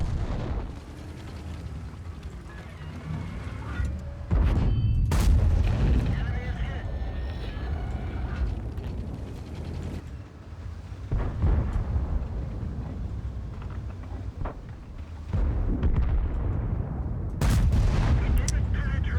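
Tank cannons fire in a tank combat video game, with several heavy booming shots and rumbling blasts spaced through the stretch, loud and close over a constant low engine drone, while someone talks throughout.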